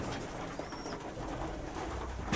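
Pigeons coo and rustle at close range during feeding, a soft continuous murmur of birds with low fluttering and shuffling, no voices.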